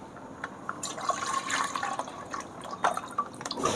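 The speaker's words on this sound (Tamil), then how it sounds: "குக்கரில் பால் போட்டாச்சு." Milk poured into a pressure cooker while making paneer, a steady liquid fill with dripping and splashing close by, fluctuating for a few seconds with small clinks.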